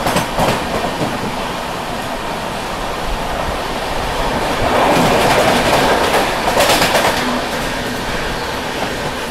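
The Rajdhani Express, a down train from New Delhi to Sealdah, rushes past at Masagram station, a loud continuous roar with rhythmic clickety-clack of wheels over rail joints, heard up close.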